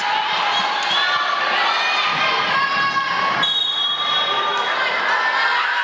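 A crowd in a gym at a high school varsity volleyball match, La Porte against Galveston Ball, cheers and shouts steadily throughout, loud and dense, with children's voices and occasional ball sounds.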